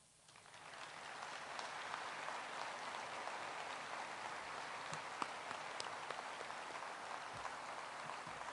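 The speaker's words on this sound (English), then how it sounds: "Distinguished guests, please join me in recognizing our veterans' national leadership with your applause." Steady, faint audience applause at an outdoor ceremony at Arlington National Cemetery, a dense even patter of many hands that continues for several seconds.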